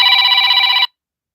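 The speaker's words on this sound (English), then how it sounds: "My phone rings" A phone rings loudly, one bright electronic tone burst lasting under a second, then abrupt silence.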